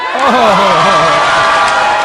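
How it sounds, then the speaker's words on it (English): A large crowd at a political speech cheers and whoops loudly, a sustained roar of voices with a prominent shout rising over it. "And they cheering."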